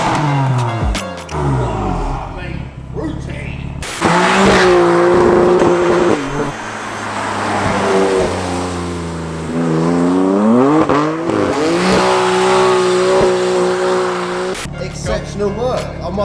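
A tuned BMW M3 engine with an enhanced exhaust tone revs hard and accelerates loudly, rising in pitch through several gear changes, close by with brief pauses between pulls.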